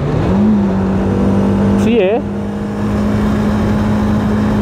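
A Bajaj Dominar 400 motorcycle engine hums steadily at close range while its brakes are tested, with a brief rising and falling rev in the middle. Someone speaks briefly over it.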